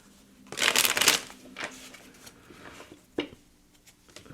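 Tarot cards being shuffled by hand, a dense riffling burst near the start followed by a few softer isolated flicks and taps, close and fairly quiet with no talking.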